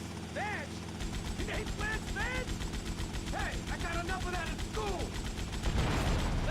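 An M60 machine gun fires in the video game GTA Vice City, a fast, even rattle of shots running through most of the stretch, with game sounds and voices mixed in.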